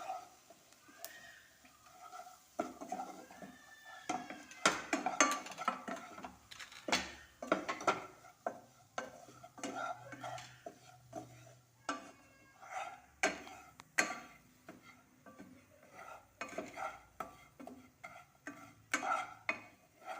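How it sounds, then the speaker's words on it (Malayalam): A spoon stirs chilli powder into a lemon and dates pickle in a pan, with irregular scraping and clinking against the metal, faint and close, with soft sizzling in between. "മുളക് പൊടി ഇട്ടിട്ട് നന്നായിട്ട് അതൊന്ന് ഇളക്കണം"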